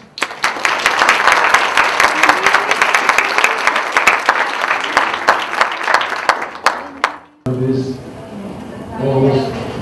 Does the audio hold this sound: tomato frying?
no